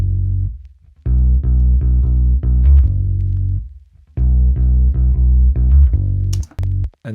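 A recorded bass guitar runs through an Ampeg V4B bass amp emulation. It plays a loud, deep, sustained line of repeated notes in two phrases, with a brief pause between them.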